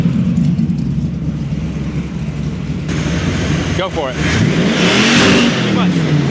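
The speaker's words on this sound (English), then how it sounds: "can you sit here and then push on the gas?" Someone presses the gas on a running 1979 GMC C35 truck engine. Its steady idle rumble swells into a few rising and falling revs, loud and close, while voices talk over it.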